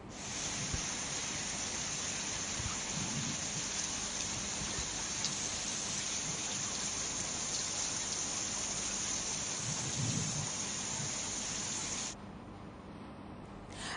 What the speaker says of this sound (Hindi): रेवाड़ी में हुई मानसून की पहली बारिश।